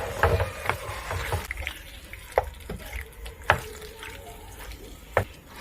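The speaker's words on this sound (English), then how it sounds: "So I'm just using my wooden spoon to toss it and mix it." Pasta in red sauce being tossed with a wooden spoon, giving soft wet stirring and squelching with a few sharp knocks of spoon against the pan, close and moderately quiet.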